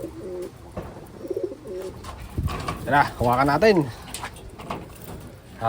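Female Taiwan pigeons coo in a soft, warbling series, close by, while a person speaks briefly over them amid rustling handling noises.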